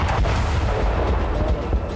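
Explosive strikes on Yemen, a dense continuous rumble of booms and blasts with heavy low-end roar throughout, loud and sustained over two seconds with no clear gaps.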